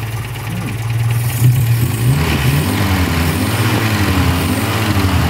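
A 1951 Sunbeam Talbot 11A engine runs steadily, then its throttle is blipped, the note rising and falling in repeated revs, close and loud with no talking.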